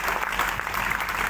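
Crowd applause at a political workers' meeting in Hyderabad, Pakistan, a short burst of dense, steady clapping from many people.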